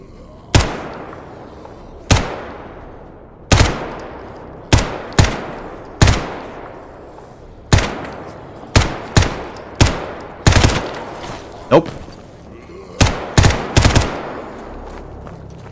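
Gunfire in Stalker GAMMA as zombies are shot: a steady series of loud, sharp single shots spaced about a second apart, each with a short ringing decay, some coming in quick doubles.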